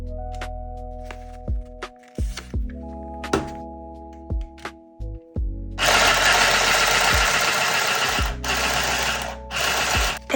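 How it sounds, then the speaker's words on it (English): A mini handheld sewing machine clunks on and off several times, then buzzes continuously in loud, rapid bursts as it stitches through paper, with brief pauses. "I'm testing this sewing machine on some paper for some future mini book projects."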